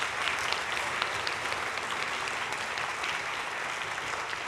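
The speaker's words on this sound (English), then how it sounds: "let's give another round of applause for these great students" An audience at a junior high band camp concert gives the student musicians a full round of applause, a thick wash of close and distant claps and a few cheers that stays loud throughout.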